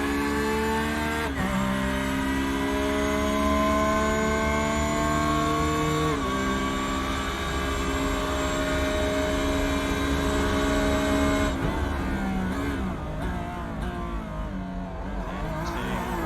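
A Porsche 911 race car in iRacing at the Red Bull Ring GP, its engine screaming loud and close on cold tyres, revs climbing steadily through the gears with sharp shift drops, then a choppier stretch of lifts and downshifts into a tight corner.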